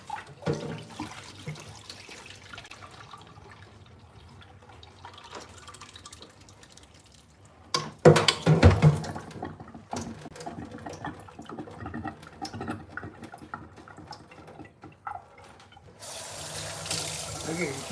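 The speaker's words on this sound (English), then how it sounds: "Washing the buckwheat." Buckwheat is rinsed under a running kitchen tap: a steady stream of water splashes into a sink, swelling into louder sloshing and rattling midway, then settling back to a continuous flow.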